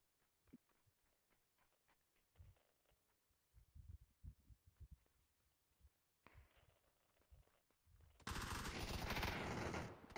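Gunfire in a video game: scattered soft thuds and shots build to a dense burst of rapid automatic fire at the end, with quiet game ambience and no talk.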